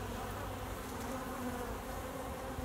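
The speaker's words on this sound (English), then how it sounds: "See the fat bees?" Honeybees buzz steadily at an open backyard hive, a dense, close and continuous drone with no break.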